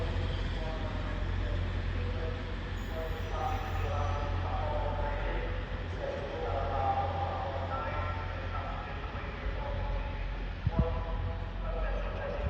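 A train pulling into platform 9 at York station on the East Coast Main Line, a low steady rumble and hum with faint mechanical tones beneath a broad roar, plus a brief clunk near the end.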